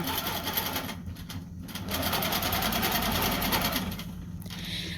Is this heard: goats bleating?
no